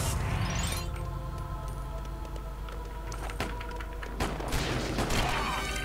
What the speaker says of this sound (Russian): Блин, а стреляет, ну стреляет, ну зачем ты стреляешь?